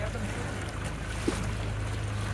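A houseboat cruising the Alleppey backwaters: a steady low engine hum with a constant drone throughout, faint water and wind noise, and a brief knock partway through.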